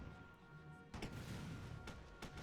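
Tank gunfire in the World War II strategy game Theatre of War, Poland campaign: a sharp cannon blast about a second in, a second shot near the two-second mark, over a low rumbling battle background.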